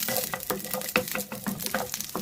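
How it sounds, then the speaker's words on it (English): Garlic cloves and ginger are stirred in a hot pan for Goan chicken xacuti, giving repeated rhythmic scraping strokes over a light, steady sizzle. "stir well"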